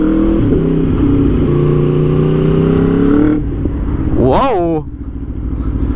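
An Aprilia RSV4 sportbike on a city street, its engine humming steadily close by, then a sharp rising rev that quickly falls away, with a brief exclaimed voice over the burst.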